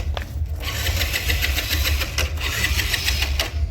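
A motorbike engine cranking and firing into a rough, pulsing idle, close and loud with uneven chugging throughout.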